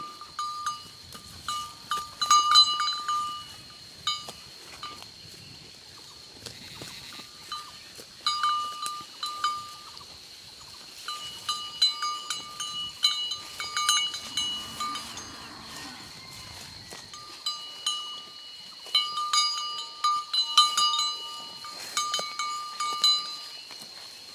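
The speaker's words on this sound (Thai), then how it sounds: "เอา กระดิ่งมาให้วัวใส่แค่นี้เองครับ" Cowbells on cattle clinking and jangling irregularly as the animals move about, with occasional bleating in the background and no speech.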